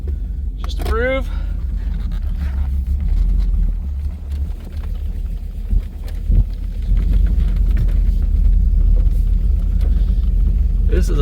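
A 1991 Pontiac Trans Am convertible with a 5.3 LS V8 swap drives along, its engine rumbling steadily and loudly up close with road noise, while a person talks over it.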